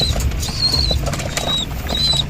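Several pigeons bathe in a water basin on a hot day, their wings flapping in quick, close bursts of splashing and fluttering, with a few thin high bird calls between.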